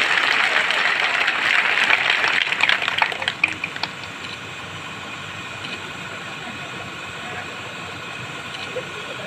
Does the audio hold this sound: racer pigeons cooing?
no